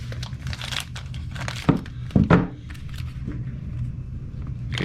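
Plastic crinkles and rustles close up, with a few sharp snips and crunches as a bag is cut open.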